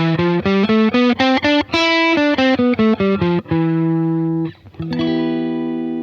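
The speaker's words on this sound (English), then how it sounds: "Now that's Phrygian, which is darker and has this kind of Spanish flavor." A scale played in the Phrygian mode from E up to E, sounded on a distorted, effects-processed electric guitar: a run of loud, sustained single notes stepping through the octave, then a held note, a brief gap and a final ringing note.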